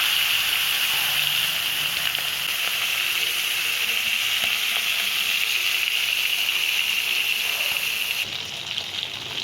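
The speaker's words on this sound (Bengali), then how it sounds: "একে একে আমি মাছগুলো ছেড়ে দেব।" Fish pieces rubbed with salt, turmeric and chili powder fry in hot oil in a wok, giving a loud, steady hiss and sizzle that runs without a break and fades slightly near the end.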